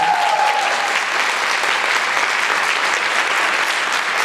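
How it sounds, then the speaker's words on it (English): Loud, sustained applause from a concert audience at a jazz camp performance, a full, dense roar of clapping that fills the whole stretch at a steady level. "Can we have a round of applause?"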